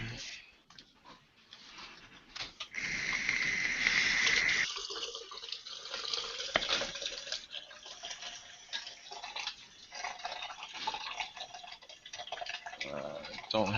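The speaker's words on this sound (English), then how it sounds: "Who is making the water dripping sound?" Water drips steadily in the background during an online tech help desk show, a faint repeated ticking plop that runs through the stretch, with quieter and louder moments.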